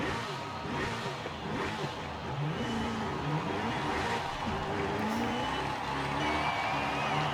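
An early-2000s supercar engine in the Forza Horizon 5 racing game revs quickly and climbs in pitch, a continuous mechanical whine with swelling throttle and a faint whoosh, steady and fairly loud throughout.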